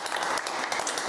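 A studio audience at a television talk show breaks into applause, producing a dense, loud and continuous wash of clapping close to the microphones.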